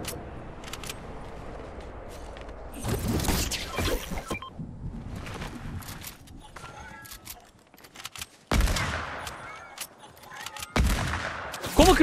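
Gunfire and sniper shots in the Fortnite Reload video game: several sharp, loud bursts come in irregular clusters through the clip, with the loudest crack near the end, over steady background game noise.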